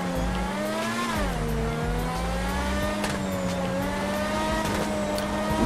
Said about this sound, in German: Immer wenn man vom Gas geht, knallt er einmal richtig.